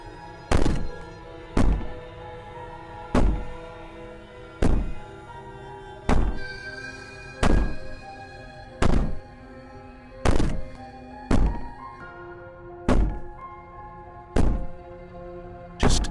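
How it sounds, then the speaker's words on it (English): In the Slay the Princess video game, heavy thuds bang against a door at a steady pace, about a dozen hollow blows spaced a little over a second apart, with no talking. "Maybe the banging and wailing will stop if you just don't pay attention to it."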